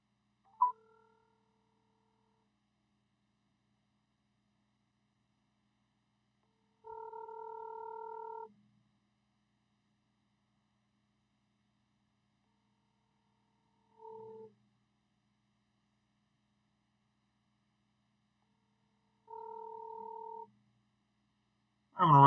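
Telephone line tones sound in short steady bursts separated by long silences, a call ringing out with no one picking up, followed by a sudden louder burst at the very end.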